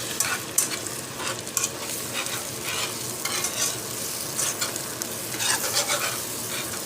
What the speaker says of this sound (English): So now we're going to give it a little stir